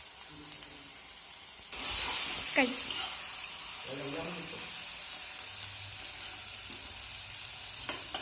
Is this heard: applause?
no